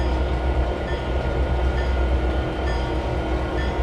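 A road train running cars between yards in the Trainz 2022 railway simulator gives a steady, continuous rolling rumble with faint, sparse high clicks over the top.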